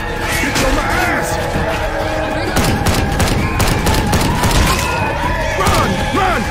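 Gunfire in Left 4 Dead 2 as survivors shoot at the Witch, bursts of shots and impacts running throughout, mixed under shouting voices and game noise.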